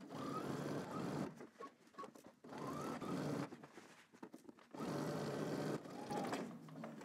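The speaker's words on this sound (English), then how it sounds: "now I'm stitching down the side seam and under my arm" A sewing machine stitches a shirt's side seam and underarm at a 5/8-inch seam allowance, running in three long, steady bursts separated by short pauses, close and clear.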